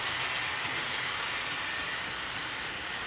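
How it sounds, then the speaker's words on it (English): Model locomotives, including a Flying Scotsman, run on a layout track in a steady continuous hiss and rumble at a close, even level, with no distinct clicks standing out. "the Flying Scotsman's just overtaking now, but the others are doing okay"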